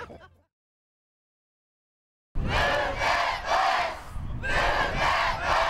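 A crowd of thousands gathered outside a newly built family home bursts into loud, sustained shouting after a silent pause, with cheering swells rising and falling over several seconds.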